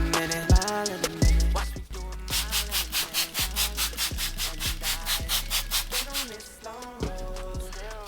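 Hand sanding with a sandpaper applicator from a kit, a steady run of rhythmic rasping strokes close up, loud and regular with no talking.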